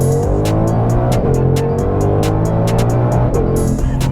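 A Ford Mustang Shelby GT500 accelerating hard on a freshly paved road, its loud engine note steady and strong from inside the car, with regular sharp ticks recurring through the run.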